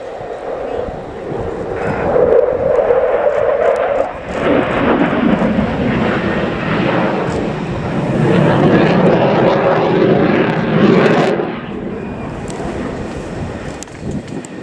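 A Swedish Air Force Saab JAS 39C Gripen jet roars through a turn at the RIAT air show at Fairford, its loud engine noise swelling and fading with wind buffeting the microphone.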